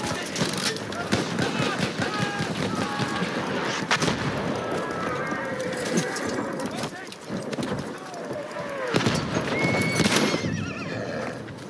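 Horses whinny and hooves clatter in a rapid clip-clop amid distant gunfire and battle noise in Battlefield 1, with voices calling out over the chaos.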